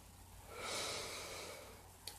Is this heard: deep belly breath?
yes